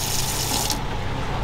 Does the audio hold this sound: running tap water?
yes